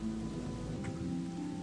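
Steady rain falls in the game Odyssee – Im Auftrag des Königs as a constant soft hiss of drops, with faint sustained tones drifting underneath and no one talking.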